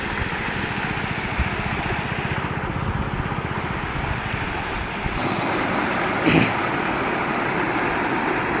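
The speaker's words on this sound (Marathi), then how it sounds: "हे आहे तळ्याच्या सांडव्यावरून येणारं हे पाणी अतिशय खळखळ वाहणारं हे पाणी" Loud, continuous rushing water pouring over a pond spillway roars steadily throughout, with broadband noise and some wind buffeting on the microphone.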